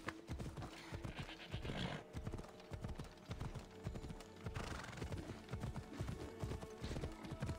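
A horse gallops through Assassin's Creed Odyssey with continuous rapid clip-clop hoofbeats, close and rhythmic, joined by bursts of neighing and whinnying.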